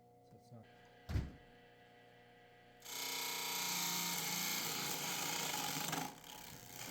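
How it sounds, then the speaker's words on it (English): Wood lathe making a peeling cut while turning a wooden mallet, a few knocks followed by a sustained loud whirring cut that stops abruptly, with a voice talking. "This is that peeling cut I was talking about"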